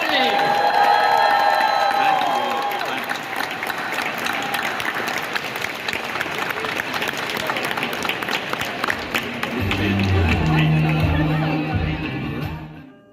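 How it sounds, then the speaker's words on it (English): Sustained applause and cheering from a convention crowd at a Halloween III reunion panel at a Florida horror con, loud and continuous, with shouts mixed in and a voice over a PA near the end. "let's give a big round of applause"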